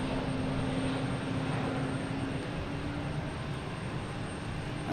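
Aircraft noise at Logan Airport, where a Delta Embraer E-170 jet is operating: a steady, broadband engine roar that holds at a fairly constant level across the whole stretch, with no voices.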